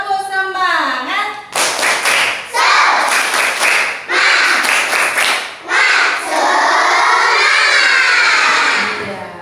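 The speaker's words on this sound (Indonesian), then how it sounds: "Tepuk semangat." Children in a classroom perform a rhythmic spirit-clapping routine, with loud bursts of group clapping broken by short pauses, mixed with shouting and chanting voices throughout.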